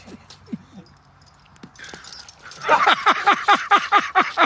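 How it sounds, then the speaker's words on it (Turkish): Dog whining and whimpering on reunion with its owner, starting with scattered soft whines, then a rapid run of loud, rising excited yelps and cries close by. "Bir hafta sonra Cankat Bey'le köpeği abrek buluşunca Ortaya güzel kareler çıkıyor"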